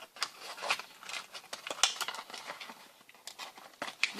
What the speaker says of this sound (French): Je vais peut-être les déballer de leur emballage.